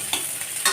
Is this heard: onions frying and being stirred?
yes